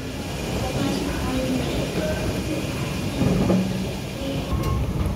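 An MTR train at Kwun Tong station in Hong Kong, a continuous rolling rumble with faint clatter and squeal, fairly loud and close inside the station.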